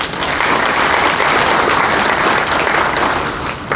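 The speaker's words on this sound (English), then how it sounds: "Yes, clap for him." Sustained applause from an audience at a public safety meeting in Selma, steady dense clapping filling the room for nearly four seconds before easing slightly at the end.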